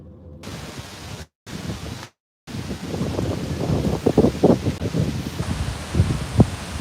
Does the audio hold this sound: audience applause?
no